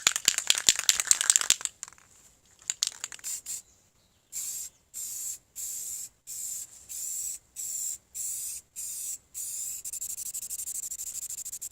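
Rust-Oleum gloss black protective enamel hisses from an aerosol can onto a radiator, first with rattling and handling noises, then in a long run of evenly spaced short spray bursts separated by silent gaps.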